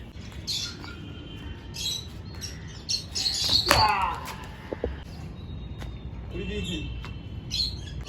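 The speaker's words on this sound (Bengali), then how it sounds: "এই যে বাচ্চা পায়রাগুলো" Young pigeons being released outdoors give a few scattered chirps and squawks, with a louder flurry in the middle amid light background noise.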